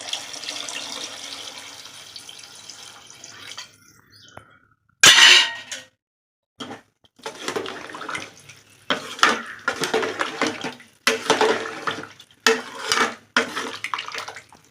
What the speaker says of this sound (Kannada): ನೀರು ಹಾಕ್ಕೊತಾ ಇದ್ದೀನಿ ನಾನು.